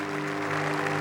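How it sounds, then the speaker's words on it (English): A golf crowd at the 1981 Masters final round rising for a standing ovation, dense sustained clapping close and loud over a faint steady hum. "the crowd get to their feet to give the young pretender a standing ovation"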